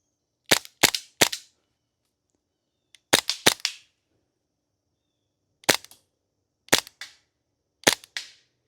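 A TP22 pistol fired at targets: sharp, loud shots come in three rapid triple bursts, then a single shot and two more separate shots, with near silence between, no talking.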